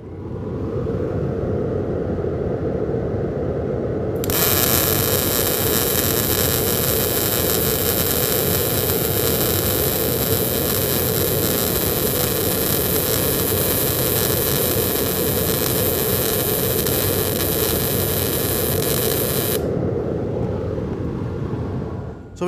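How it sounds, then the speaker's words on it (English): A MIG welder, with the gun pushed from right to left, holds a steady hiss and crackle for about fifteen seconds over a constant loud background rumble that runs before and after the weld. "So we just finished making a weld with the pushing the gun"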